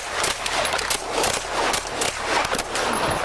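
Gunfire from police body camera footage, a chaotic string of loud cracking shots at uneven intervals, close and harsh, with no voices heard.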